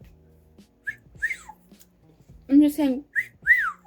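A person whistles a few short, bright rising notes in quick bursts, faint and close, with a brief spoken phrase in between.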